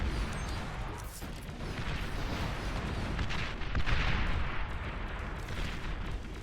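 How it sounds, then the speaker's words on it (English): Rocket bots firing in the real-time strategy game Beyond All Reason: a dense, continuous barrage of overlapping launches and explosions, loud and steady throughout with no speech. "These rocket bots doing tremendous amount of damage."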